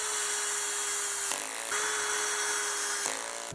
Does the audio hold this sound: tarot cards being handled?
no